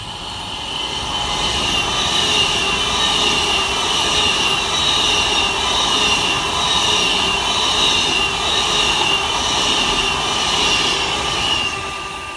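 Avanti West Coast class 390 train passing at Levenshulme, a loud sustained rushing roar with high whining tones, steady for the full length and easing slightly at the end.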